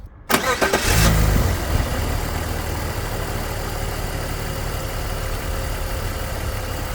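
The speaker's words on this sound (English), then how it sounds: "clear all your tools off the engine and start it to see how well it runs." A BMW 320i E46 engine cranks and catches after a brief click, then settles into a steady, close idle that runs on evenly, after an idler pulley replacement.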